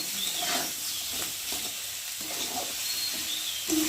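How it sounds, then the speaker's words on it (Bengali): Spice paste with turmeric fries in hot oil, a continuous sizzle broken by the scrape of stirring strokes, close and moderately loud. "আর আন্দাজ মতো হলুদ দিয়ে এটাকে ভালো করে নাড়বো, একটু ভাজা ভাজা মতো করবো মশলাটাকে"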